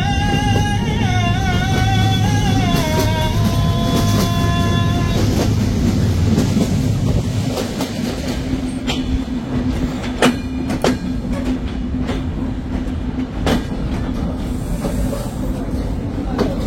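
Ruposhi Bangla Express passenger train running on rails between Dhaka and Benapole: a steady, close rumble with rhythmic clatter and hiss, plus a few brief tonal notes early on.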